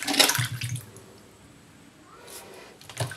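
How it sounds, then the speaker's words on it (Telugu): Cold water splashes into butter in a vessel, with a short sloshing pour at the start, a quiet lull, and another brief splash at the end, close by. "ఇలా వంచుకున్న దీనిలో ఇంకొన్ని చల్లని వాటర్ వేసుకుందాం."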